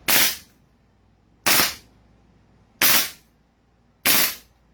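Four loud, sharp bursts from an airsoft gas blowback rifle, an HK-style GBBR, each a crisp crack with a short tail, evenly spaced about 1.3 seconds apart with quiet gaps between.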